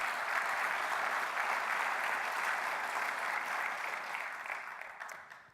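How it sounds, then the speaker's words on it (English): A crowd at a business plan competition applauds steadily, dense even clapping that holds for several seconds and then fades out toward the end. "Let's give a round of applause."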